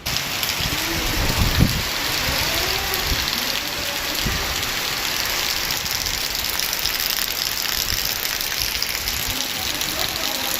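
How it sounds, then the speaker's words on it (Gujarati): Heavy morning rain pours steadily outdoors in a loud, continuous broadband wash, with a few louder knocks and splatters near the start. "જો ભાઈ કેવો વરસાદ પડે સવારમાં જોરદાર એવો"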